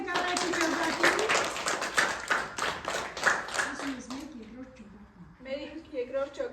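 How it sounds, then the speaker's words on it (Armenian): A camp group claps in a burst of rhythmic applause for the first team, fairly close, fading out partway as a voice speaks over the end. "Ծափահարում ենք առաջի ճոպատին"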